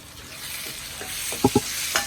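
Tomatoes go into a hot pan of oil for a garlic dal curry, giving a steady soft sizzle broken by a few sharp, close stirring knocks, with no voices.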